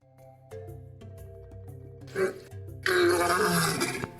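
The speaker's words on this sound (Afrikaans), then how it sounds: "Sjoe, hoor hoe brul die leeu." A lion roars, first with a short grunting burst and then a long, loud, rumbling roar, over soft background music.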